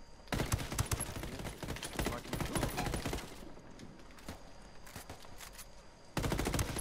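Video game weapon fire, heard as sustained automatic bursts loud in the first half, then fading to quieter scattered shots, before a fresh loud burst at the end; nobody talks.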